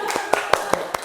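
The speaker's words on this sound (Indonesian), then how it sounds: "Tepuk tangan buat Mas Ucup." A single pair of hands claps five times in a steady rhythm during a microteaching session in a classroom, close and distinct against a quiet room, with faint talk in the background.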